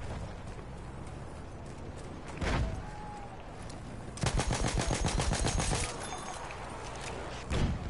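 Battlefield 1 gunfire crackles in short bursts, with a sustained rattling volley in the middle, over a background of game ambience.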